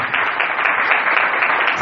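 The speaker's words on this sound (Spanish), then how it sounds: "recibe este fuerte aplauso" Church congregation applauding loudly and steadily, a dense, continuous wash of many hands clapping with no voices standing out.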